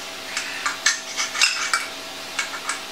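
Struggling to pry open a small tin while making bacon and bourbon barbecue beans: a series of sharp metallic clicks and scrapes, spaced irregularly over a few seconds, close and fairly clear with no talking.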